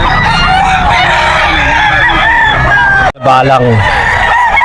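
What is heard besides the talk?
bull stag gamefowl crowing at pet market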